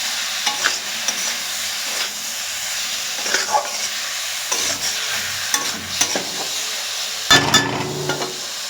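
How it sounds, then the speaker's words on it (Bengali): Olive pickle cooking in oil with broken sugarcane jaggery is stirred, giving soft scraping and clinking strokes over a faint steady sizzle, with a sharper clatter near the end. "তো এইভাবে এখন মিক্স করবো, তারপরে আমরা এখন ঢেকে দেবো অল্প।"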